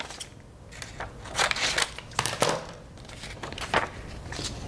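Scissors snipping through a new square of fabric for a sewing pattern, several crisp close cuts in uneven bursts with no talking.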